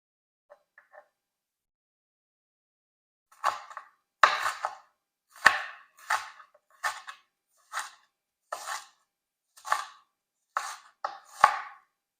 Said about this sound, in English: I like to do my onions pretty fine. Mostly I chop fine when I mix it with meat,